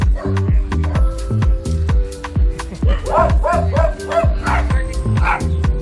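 A dog barks repeatedly in a rapid, loud series of sharp yips and woofs close by, with brief whimpering between bursts throughout.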